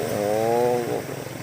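A jet ski on floodwater after a storm, its engine whining loudly in a rising and falling buzz as it passes close, then fading into lower rumble.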